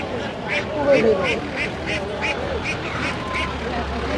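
A steady run of short quacks from native ducks at a poultry market, repeating rhythmically over a busy, murmuring background with people talking nearby.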